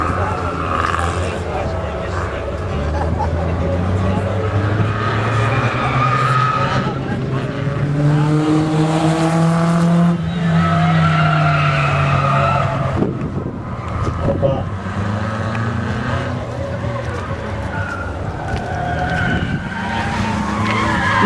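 A Peugeot skidding on a track at a Peugeot club rally in Haskovo, engine revving and rising while tires squeal in long sweeping skids, loud and continuous, with an announcer and crowd voices over it.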